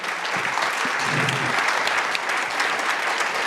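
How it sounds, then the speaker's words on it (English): A crowd at a cannabis alliance candidate forum gives the county supervisor candidates a loud, dense round of applause that holds steady and close throughout. "Please give a big round of applause to all of these candidates, Hillary Hodge, Sue Hook, and Supervisor Dan"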